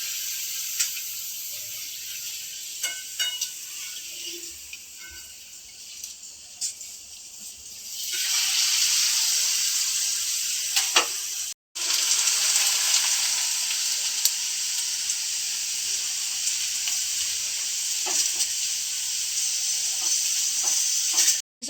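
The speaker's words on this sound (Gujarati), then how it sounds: "થોડાક પાપડ તળી નાખી ને થોડીક મમરી તળી નાખી" Papad and mamri fry in hot oil. Light crackles and scattered clicks give way to a loud, continuous sizzle that keeps going with two brief cut-outs.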